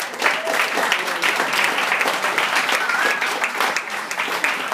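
A live audience claps and cheers for Margaret Walters, with dense, steady applause holding at an even level throughout, scattered whoops and a faint whistle rising above the crowd.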